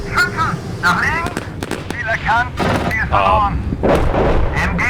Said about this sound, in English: This machine gun, this MG3, has a very high rate of fire, as you can tell.